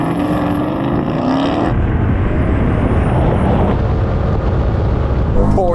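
A Porsche and an Audi launching side by side in a drag race, loud roaring engines and tyre noise building close by, then fading as the cars pull away.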